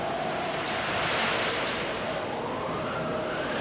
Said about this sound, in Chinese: 突然海面发生强烈的暴风雨，船沉了，像山崖似的巨浪几乎要吞没他们